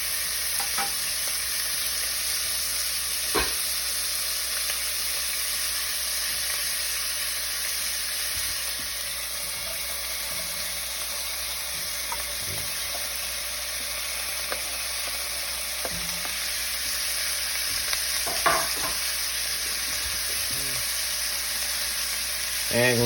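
Onions and bacon sizzle in a pot while being stirred, a steady, loud frying hiss that runs throughout, with occasional scrapes and clunks from the spoon.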